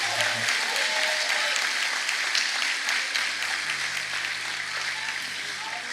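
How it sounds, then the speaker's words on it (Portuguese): A church congregation applauding during a worship service with loud, continuous clapping from many people throughout. A low hum and faint voices sit underneath. "Aplaude mais forte ao Senhor."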